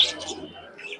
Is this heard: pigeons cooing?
yes